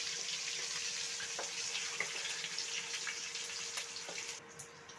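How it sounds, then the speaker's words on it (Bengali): White sesame seeds fry in a pan with a faint, steady hiss and soft crackle throughout, quiet and without speech. "আর দেবো সাদা তিল, ভালো করে ফ্রাই করে নেব।"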